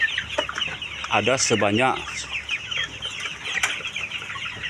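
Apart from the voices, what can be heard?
chickens clucking in a poultry farm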